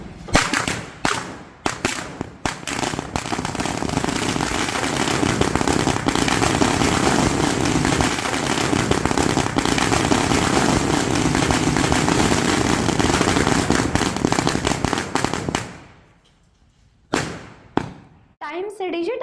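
Firecrackers burst in a political victory celebration: a dense, continuous crackling barrage of sharp pops runs for about fifteen seconds, drops briefly to near silence, then a few separate loud bangs crack out.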